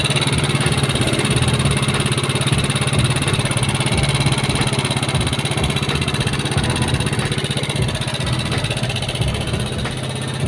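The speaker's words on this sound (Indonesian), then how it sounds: "Ini kawan-kawan motornya sudah hidup." A Yamaha Mio scooter engine, restarted after a carburetor service, idles close by with a steady, buzzing mid-pitched putter that holds constant and loud throughout.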